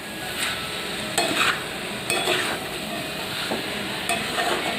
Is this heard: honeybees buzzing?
no